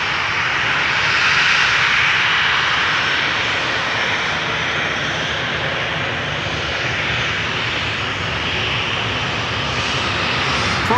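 A KLM Boeing 737-700 departs Amsterdam Schiphol Airport's Polderbaan runway, its jet engines holding a steady, loud roar with broadband hiss throughout, no voices heard.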